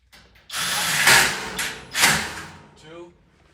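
A power drill drives screws into metal studs while framing a wall. Two loud close whirring bursts rise and fall with a short thump between them.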